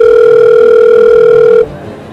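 After a phone number is dialed, a loud, steady telephone ringback tone holds for about a second and a half, then cuts off abruptly.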